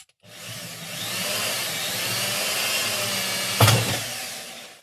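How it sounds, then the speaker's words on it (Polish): An electric drill whirs steadily for several seconds, a sharp grinding burst near the end before it winds down. "wiertarka"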